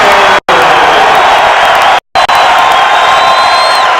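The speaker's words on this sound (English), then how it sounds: "Well, the Hawks got something to cheer about." A big arena crowd cheers and roars at the 2013 NCAA wrestling championships, loud and sustained with whoops rising above the din, cut by two brief dropouts.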